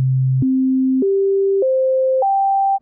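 A sequence of five pure synth tones stepping upward in pitch, each held about half a second, with the higher notes aliased from sampling at 2000 Hz; steady and loud, ending in a brief click.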